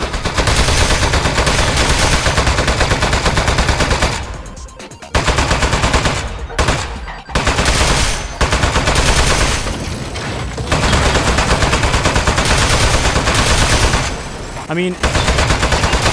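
Turret gunfire in Aperture Desk Job comes as loud, dense rapid-fire bursts, with short gaps between volleys, and a voice speaks briefly underneath.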